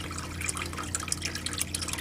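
Water being dumped out of a backyard chicken waterer with leaf debris in it, giving scattered splashing drips and trickles over a low steady hum.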